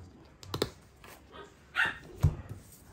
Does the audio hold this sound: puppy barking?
yes